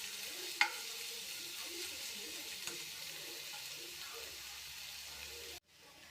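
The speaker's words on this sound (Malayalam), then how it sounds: "ഇതൊന്ന് നല്ലപോലെ ഫ്രൈ ആയിട്ടെടുക്കാം" Green gram and curry leaves frying in a pan give a soft continuous sizzle with occasional stirring scrapes and a sharp clink near the start, before cutting off abruptly at the end.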